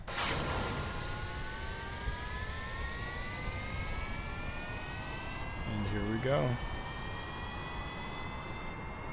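A continuous rocket engine roar with rising whines in Kerbal Space Program, while someone speaks briefly over it.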